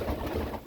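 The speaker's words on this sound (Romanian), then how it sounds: "Deci cam ăștia sunt porumbei de ornament pe care eu îi dețin." Ornamental pigeons coo softly at close range, a brief low murmuring burble with no talk over it.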